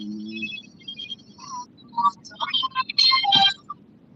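A phone rings during a live stream, giving a short melodic ringtone of chiming tones in quick bursts. It is fairly faint and close, with no talking.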